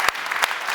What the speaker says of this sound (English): This deserves a round of applause, Rostislav.